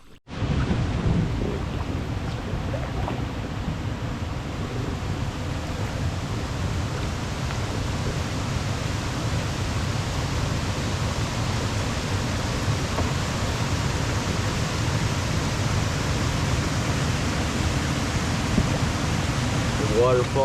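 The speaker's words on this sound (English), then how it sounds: "Waterfall there." A waterfall on a canoe route in Algonquin's forested waterways roars as a continuous, steady broadband rush, close and loud for the whole stretch with no breaks.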